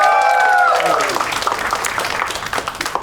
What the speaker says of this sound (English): Huge round of applause for Shamik.